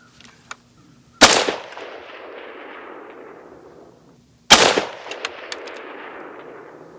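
Two loud, sharp gunshots from a Radical Firearms AR pistol chambered in 7.62x39, fired at long range outdoors, each blast followed by a long fading echo, with a faint distant ring of a steel target after the second.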